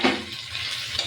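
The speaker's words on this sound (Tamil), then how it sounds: "இப்போ நான் டொமேட்டோஸ் போடுறேன்." Tomatoes going into a pan with onions for dry prawn sambal, giving a brief, soft, steady sizzle and crackle of frying, heard close up.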